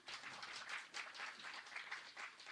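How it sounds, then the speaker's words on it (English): Faint applause from a conference audience at a community medicine meeting, a steady wash of many hands clapping with slight surges, heard alone and somewhat distant. "A big round of applause for him."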